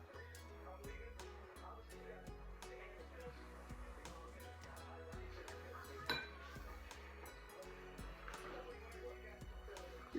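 Spoon stirring cookie dough with nuts in a bowl, soft repeated clinks and scrapes against the bowl continuing steadily under faint background talk.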